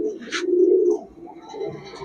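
Pigeons with pearl (stone) eyes, a male and female pair, cooing nearby in low, rolling murmurs, with a brief higher rustle early on and a softer coo near the end.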